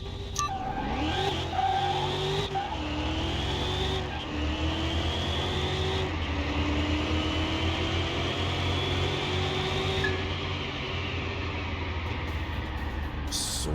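Supercharged LS-swapped Camaro driven in the game Car Mechanic Simulator 21, its engine note loud and continuous with rising and falling revs through gear changes, tire squeal underneath.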